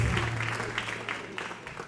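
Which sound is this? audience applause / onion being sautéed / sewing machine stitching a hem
audience applause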